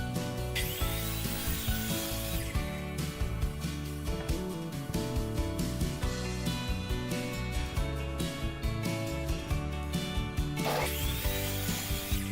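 A saw cuts through a wooden board into 1.5 inch pieces, a busy rasping and buzzing of tool on wood with repeated strokes and short pauses, loud and close with no talk.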